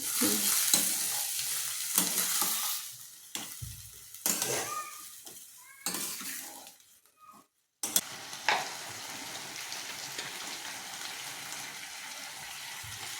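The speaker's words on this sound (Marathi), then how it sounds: "आपली मेथी पण छानसं कलसून घेऊया" Fenugreek leaves stirred in a frying pan, a strong close sizzle with scraping stirs, dropping briefly to near silence before the sizzling resumes steadily.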